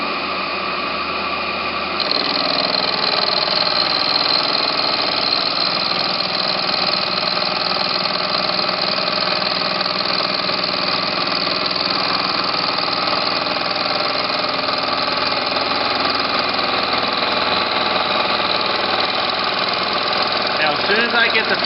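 A machine tool cutter makes a steady pass across a steel pawl, producing a continuous mid-to-high whirring drone that holds evenly at close range for the whole stretch, starting just after a brief quieter moment.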